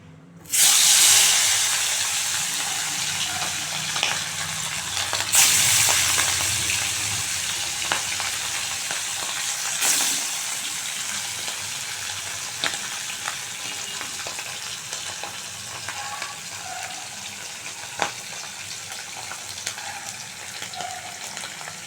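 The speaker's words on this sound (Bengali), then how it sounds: "মাছটা ভেজে নেব, তেল গরম হয়ে গেছে।" Hilsa fish fries in hot oil, giving a long, steady sizzling hiss with scattered pops and spits, close and continuous with no voices.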